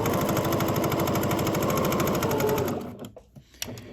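A sewing machine runs steadily, stitching along a line on fabric for a welt pocket, a close, loud rapid mechanical hum and needle chatter that stops abruptly near the end, leaving a few small clicks.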